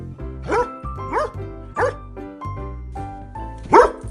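A dog barks four times in short, sharp yelps spaced about a second apart, the last one loudest, over a bouncy musical backing.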